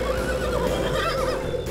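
A horse whinnies with a wavering, drawn-out neigh that fills the short moment, close and fairly loud over a low background rumble.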